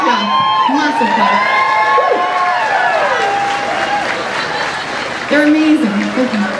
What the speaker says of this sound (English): give them a high five and a massive clap. Massive clap.